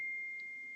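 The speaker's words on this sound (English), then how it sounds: "that's my phone" A phone notification gives a single steady electronic beep, a pure sustained tone that lasts just under a second and comes through clearly over a quiet room.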